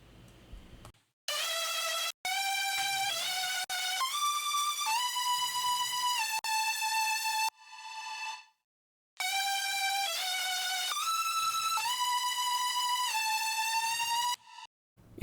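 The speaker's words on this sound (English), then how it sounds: "Here I added some pitch bend every 8 bars and some vibrato in the long notes" A future bass synth lead plays a melody of sustained notes. The longer notes carry vibrato and some notes bend in pitch. The line is bright and clear, with short gaps between phrases and no voice.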